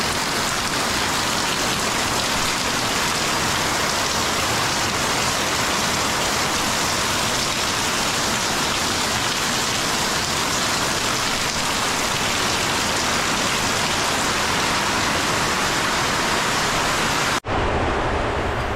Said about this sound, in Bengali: বাহিরে মুসুলধারে বৃষ্টি হচ্ছে